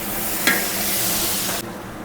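Tomatoes drop into hot masala frying with garam masala for a mutton dish, setting off a loud steady sizzle with a brief splashy burst near the start, close up until the hiss cuts off sharply.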